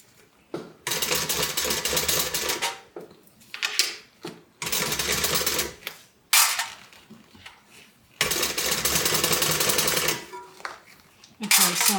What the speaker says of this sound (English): I'm going to be stitching on my gusset, and I'm pretty much just going to try to stitch right over my old stitches.